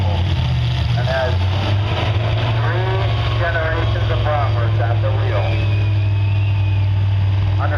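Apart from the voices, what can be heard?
tractor engine running at a tractor pull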